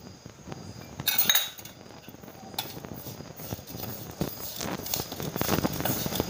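Grated coconut and sugar are stirred together in a bowl for sweet modak filling, giving a steady, close scraping and clinking of a utensil against the bowl with a brief louder rattle near the start.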